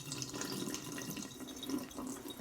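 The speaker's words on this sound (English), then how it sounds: "I'm going to just pour the juice down the drain because I don't" Juice poured down a kitchen sink drain, heard as a steady, soft splashing trickle of liquid with faint drips, continuous and close, with no talking.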